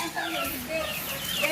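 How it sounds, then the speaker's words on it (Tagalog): Chickens cluck softly in a short stretch of continuous low calling, moderately near, with a faint murmur of background noise. "Po may mga manok na baga kayo."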